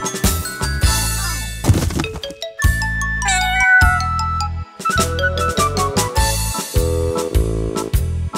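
Cat meows sound repeatedly in a children's nursery rhyme about Hickory Dickory Dock, with short bursts set among light chiming musical tones.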